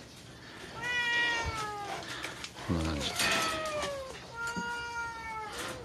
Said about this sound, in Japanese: 今日の猫たちです。 保護猫たち